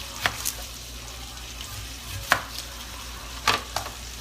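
An onion being chopped for a crockpot pot roast, a few sharp knife strikes on a board spaced apart over a low sizzling background, close and clear.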